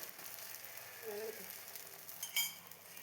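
Egg omelette frying in hot oil in a pan, a faint, soft sizzle with light scraping and a brief clatter near the end.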